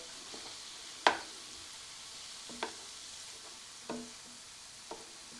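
Hamburger meat browning in a pan for a beef and cabbage stir fry, giving a faint steady sizzle with a few sharp spatula scrapes and taps spaced a second or so apart.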